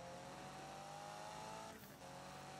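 A car drifts in Need for Speed 2015, a steady engine drone with a brief tire squeal and a dip in revs near the end, with no talk.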